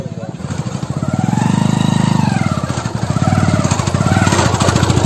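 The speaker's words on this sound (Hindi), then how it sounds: "कुछ लोग पैदल आ रहे हैं, कुछ लोग बाइक से आ रहे हैं।" An Apache RTR 160 and other motorcycles ride along a rough village road. Close engines give a loud, steady, throbbing drone that rises and falls with the throttle, while people talk over it.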